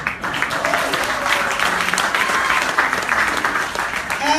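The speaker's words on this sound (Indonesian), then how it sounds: "Masya Allah, tepuk tangan dulu" Audience applause at an Aceh tsunami commemoration event, dense steady clapping from a crowd throughout, with faint voices and cheers mixed in.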